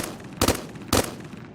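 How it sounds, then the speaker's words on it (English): Enemies fire on the player in a post-apocalyptic video game, heard as two sharp gunshot bursts about half a second apart over a quiet background. "they are firing at me"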